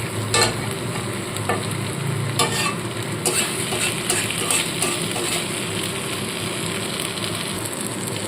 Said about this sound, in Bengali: এক দু মিনিট এইভাবে আমি কষিয়ে নিয়েছি